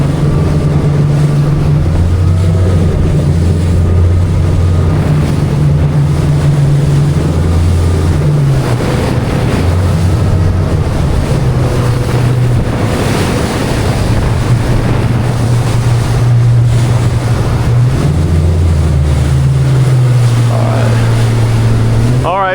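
A 23-foot Albury Brothers motorboat pushes through rough, breaking waves, its engine a steady low drone under constant roaring hull slap, spray and wind buffeting close to the microphone.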